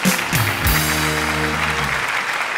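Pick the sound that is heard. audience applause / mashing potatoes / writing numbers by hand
audience applause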